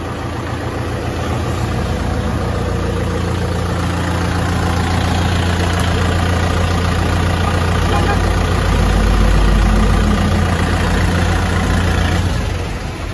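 Diesel engine of a Kubota M6040SU tractor running steadily at close range, a loud continuous low rumble that swells slightly near the end before easing off.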